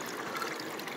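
Water from a mountain stream flows and trickles steadily at low volume for a moment, with no talk, as the source that will feed a ram pump.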